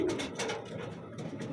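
A pigeon coos in low, rolling throaty calls close by, repeated over a steady background hum.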